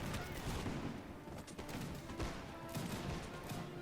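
Musket volleys crackle in a Napoleonic-era battle game, a dense, rolling wall of overlapping gunfire with heavier booms rising and falling throughout, loud and continuous with faint talk underneath.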